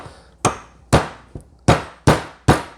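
Hammer strikes driving a U-bolt into a PVC homemade prosthetic, six sharp, ringing clangs at irregular intervals of roughly half a second, close and loud with brief decays between hits.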